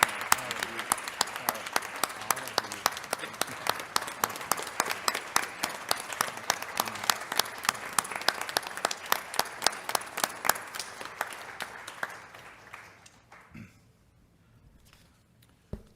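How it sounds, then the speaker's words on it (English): A large audience at a school board of education meeting applauds steadily with dense, sustained clapping that fades out near the end, leaving a few scattered claps. "can we please just express our gratitude this evening with one more round of applause"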